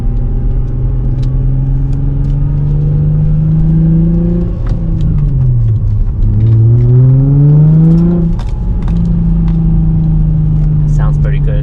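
Infiniti G35 fitted with a Tomei exhaust from a 350Z revs up, drops back and revs again, a loud, close, continuous engine drone rising and falling in pitch.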